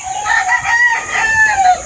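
Chickens and chicks at a poultry farm give off loud, close clucking and squawking in overlapping bursts, with shrill high calls crowding the whole stretch.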